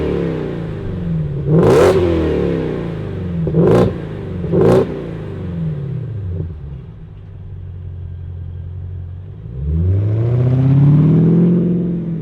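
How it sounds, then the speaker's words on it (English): The supercharged V8 of a 2025 Ford F-150 Raptor R barks through three sharp revs up close, then settles to a deep idle before a longer, rising rev at the end. "We got the supercharged V8."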